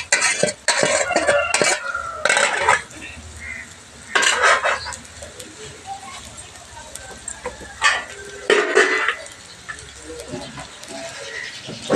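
Cooked rice being stirred into a pot while making tomato rice, with repeated scraping and clinking bursts of a spoon against the pot, separated by quieter pauses, recorded close.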